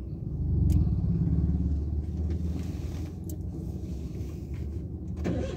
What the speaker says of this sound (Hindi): चलो ऑन कर लो वापस क्लच दबा कर